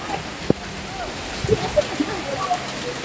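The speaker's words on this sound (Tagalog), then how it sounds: "Uy, kusog yung ulan guys. May kusog na ang ulan." Heavy rain falling during an island trip in Camiguin, a steady wash of rainfall with scattered drip and splash accents, while people talk nearby.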